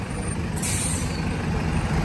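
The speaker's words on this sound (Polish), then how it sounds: "Autobus do samolotu do Bangkoku." Airport apron bus carrying passengers out to a plane for a flight to Bangkok, a steady close diesel rumble with a hiss of air brakes partway through, no voices.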